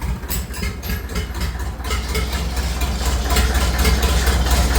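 A Farmall 650 tractor engine runs steadily, a loud low rumbling idle that builds slightly in level toward the end, with no voices over it.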